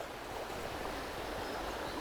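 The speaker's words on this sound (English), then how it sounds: "That's why this river is my favorite" A Slovakian trout and grayling river flows in a steady, soft rush of water, constant and fairly faint, with no voices over it.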